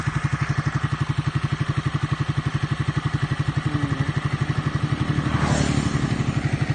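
A Honda CBR250 engine with a sonic exhaust idles in a steady, close, rapid pulsing throb, then revs up briefly near the end with a rising whine.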